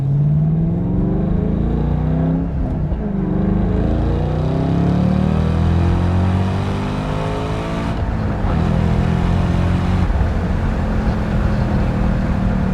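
A 2014 Shelby GT500 Mustang drives fast with its engine roaring loudly and steadily, rising and falling through the revs, with shifts audible as it pulls along the road.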